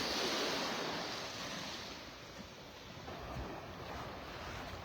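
Surf washes steadily at Vanderbilt Beach in North Naples, Florida, as the tide goes out, a broad continuous hiss of waves with wind noise on the microphone, loud and close.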